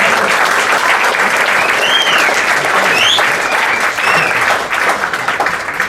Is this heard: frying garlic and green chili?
no